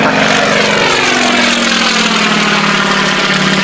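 A de Havilland Beaver propeller plane flies a wingover, its radial engine and propeller a steady loud drone with a slowly shifting pitch, continuous throughout with no talk.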